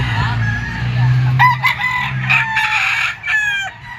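A young stag rooster crows repeatedly at a busy Philippine pet market, its loud strained calls rising over a steady low hum of crowd noise.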